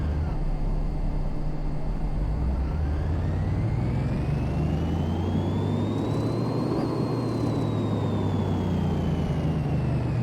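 A car engine on a dyno in Car Mechanic Simulator 2018 revs up in a steady rising whine, peaks, then eases back down, droning continuously beneath a layer of background noise.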